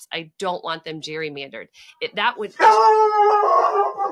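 Dogs howl and bark emphatically right after a person speaks, a drawn-out, loud vocal wail close by.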